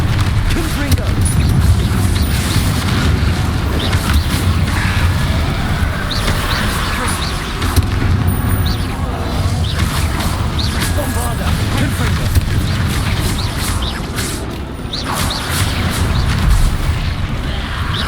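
Repeated Confringo fire-spell blasts in the video game Hogwarts Legacy: loud, dense booms and crashing bursts running continuously through a hectic combat mix with other spell impacts.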